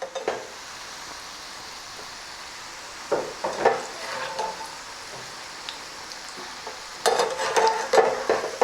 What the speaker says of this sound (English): I'm just going to lightly fry this.